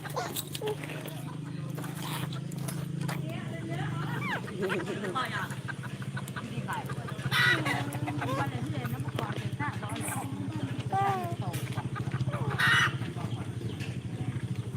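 Chickens perched in a tree cluck and squawk now and then in the background while people talk over a murmur of outdoor noise on a cold evening.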